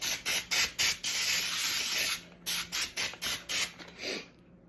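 Short bursts of hissing spray hit parchment paper lining a cake pan, about a dozen quick rhythmic pumps with one longer continuous spray in the middle, close and fairly loud with no voices.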